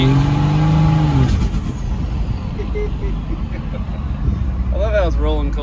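An old Cummins diesel truck engine revs up under loud rumble, a tonal whine rising then dropping into a rough roaring idle, close and heavy, with people talking over it.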